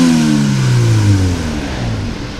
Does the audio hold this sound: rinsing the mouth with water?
no